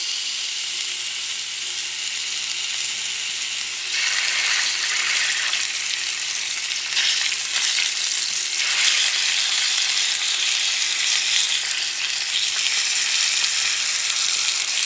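Salted pork shoulder sears in a preheated pan, a steady loud sizzle and crackle that swells in intensity partway through and holds with no voices over it.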